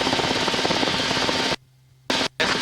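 A helicopter flying in an airport traffic pattern gives off a loud, steady engine and rotor roar in the cabin, broken by short quiet gaps as the intercom cuts in and out.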